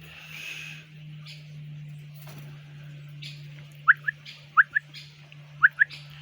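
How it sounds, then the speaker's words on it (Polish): Budgerigars and other birds chirp outdoors in a garden plot, with three sharp paired chirps spaced a second or so apart over a steady low hum. "Tam z tyłu za nami się odzywają inne ptaki i one też ćwierkają przez to."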